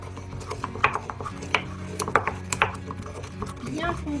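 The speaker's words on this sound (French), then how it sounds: "On en a pris 5 clous qu'on va moudre fraîchement." Five whole cloves being freshly ground, giving irregular close crunching knocks and rattles spread across a few seconds, with a voice faintly in the background.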